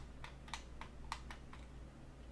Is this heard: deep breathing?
no